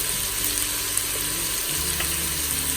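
Garlic sautés in the pan of an Instant Pot, giving a soft continuous sizzle with faint scraping and a low hum beneath, steady and close.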